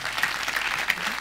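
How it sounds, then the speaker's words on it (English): Brief burst of congregational applause in a church during a sermon, steady dense clapping filling the short moment at moderate volume. "let's applaud the Lord for that"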